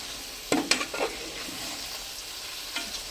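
Chicken curry being stirred in a pan on the stove after home-ground chilli powder is added, with a few close scraping strokes in quick succession near the start, one more later, and a soft sizzle underneath.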